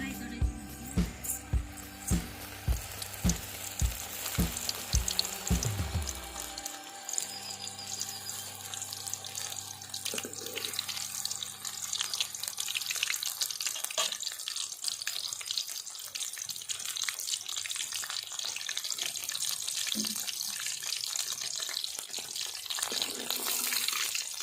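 Soya chunks (meal maker) deep frying in oil, a dense continuous bubbling hiss that takes over after an opening stretch of rhythmic music and holds steady to the end.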